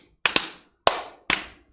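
Close, sharp hand claps from a childhood clapping game, coming in quick doubled pairs with ringing room decay, a steady rhythmic pattern of loud smacks and brief silences.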